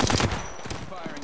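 Rapid automatic gunfire in Apex Legends, a dense burst of loud close shots at the start trailing into echoing game noise.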